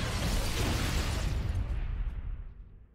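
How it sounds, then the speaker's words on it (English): A big, roaring blast from a needler in Halo: Combat Evolved hits at full loudness at once, rumbles heavily for about two seconds, then fades out, with no voices over it. "that was a little too big of an explosion for my needles"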